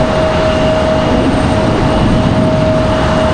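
Delta airliner, flight 689, at Raleigh-Durham International Airport, heard as a steady, loud broadband jet roar with a constant high whine, continuous throughout with no talk.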